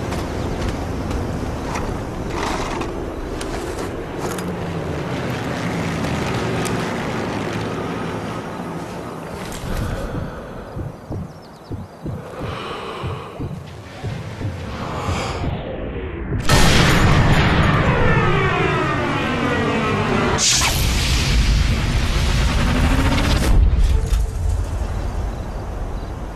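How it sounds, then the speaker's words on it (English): Rumbling engines of tanks and jeeps in the World War II shooter Sniper Elite 3, a loud continuous mechanical roar with booms and blasts layered over wind and battlefield noise, rising sharply toward the end. "You hear tanks and jeeps and"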